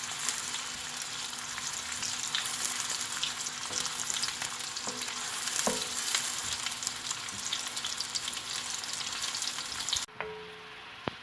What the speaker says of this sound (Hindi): अब इसमें मैं प्याज ब्राउन कर लूँगी।